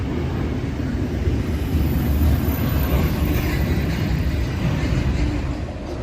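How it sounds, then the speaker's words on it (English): A Norfolk Southern freight train rolls past close by, a steady loud low rumble of railcars holding for the full stretch with no talk over it. "there goes the end of the train."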